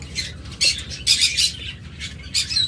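Pet cage lovebirds and cockatiels at a bird sale, calling in repeated shrill squawks and chirps, several bursts close by with brief quiet gaps between them.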